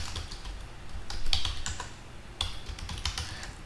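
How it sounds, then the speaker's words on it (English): Rapid, uneven keystrokes on a computer keyboard as a test student name is entered during setup for an online conferencing session, fairly close and steady, with no talking. "I will go ahead and type test student"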